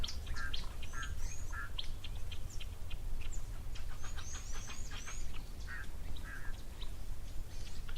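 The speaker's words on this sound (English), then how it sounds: "We've got a South African shell duck there with a little brown body and the white head." South African shelduck calling at a waterhole in the Madikwe Game Reserve, with repeated honking squawks and calls mixed with other bird calls over a constant low rumble of background noise.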